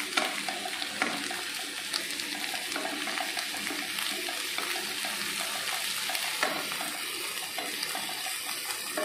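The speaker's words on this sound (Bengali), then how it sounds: "আর ওদের মাছটাকেও ভেজে দিই" Fish frying in oil in a home kitchen at breakfast time, a steady dense sizzle and crackle running evenly throughout at moderate loudness, with no talking.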